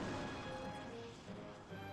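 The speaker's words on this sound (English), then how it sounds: "Crashing into the planet once again" A spaceship crashing onto a planet in Pikmin 2, a faint, rumbling crash with a dense low roar that gradually fades.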